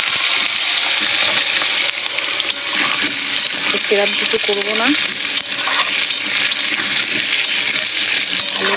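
Whole spices hit hot oil for a cabbage curry, giving a steady broadband sizzle with scraping stirs, while a voice speaks briefly over the frying.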